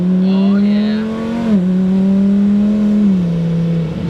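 Steady, loud engine drone from a 2600-horsepower Lamborghini Huracan on low boost, holding a fairly even pitch with slight rises and dips, close and continuous without pauses.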